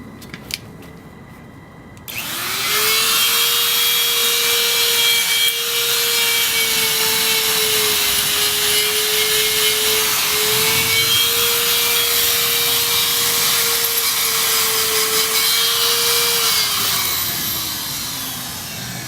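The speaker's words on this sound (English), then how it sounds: "So now I'm going to do the other side with a power tool." A power tool grinds steadily against a horse's hoof for about 17 seconds after a brief quiet start. The whine holds close and loud, dips slightly in pitch as it bites, then winds down at the end.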